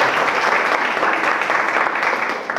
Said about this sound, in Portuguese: Gostaria de dar uma salva de palmas.